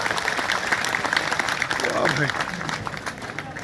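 Audience clapping at a Hindi poetry gathering (kavi sammelan) in Ayodhya, a sustained ripple of hands with a voice talking over it partway through.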